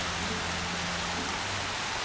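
Heavy rain pouring in the Horizon Zero Dawn video game, a dense, constant wash of hiss filling the whole moment, loud and unbroken.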